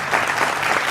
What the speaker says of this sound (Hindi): जोरदार तालियों से आप सबका अभिनंदन है।